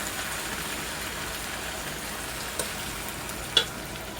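Small-cut onions frying in a pan for a ground beef Philly cheesesteak, a steady soft crackling sizzle throughout with a few sharper pops near the end, close and alone.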